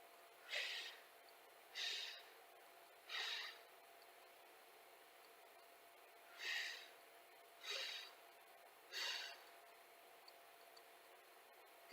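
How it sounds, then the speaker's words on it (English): A person doing pilates with arms bent breathes out audibly six times: three soft, close breaths at an even pace, a pause, then three more, each a brief airy rush over a quiet background. "And now you can hear me breathe with my arms bent."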